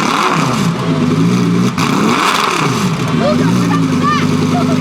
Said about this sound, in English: Heard that Huracan Super Trofeo revving over here